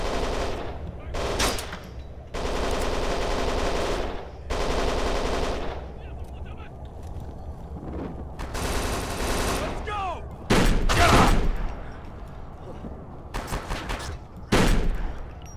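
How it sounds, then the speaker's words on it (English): Loud gunfire in the game Kane and Lynch 2: Dog Days, heavy blasts in bursts spread through the stretch with voices talking between them, fitting a shotgun among other weapons. "This is my favorite shotgun in the game."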